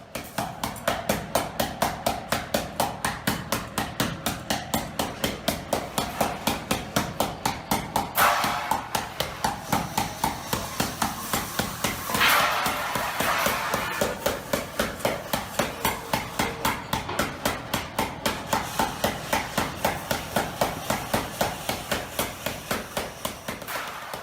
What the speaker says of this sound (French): 3 acolytes qui manient chacun une masse de frappe de façon alternée et synchronisée